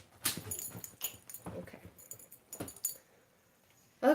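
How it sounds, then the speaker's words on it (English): A dog moves about indoors with soft scuffling, jangling tags and faint whimpering bursts, quiet and close, ending with a louder sound. "my dog is really distracting me"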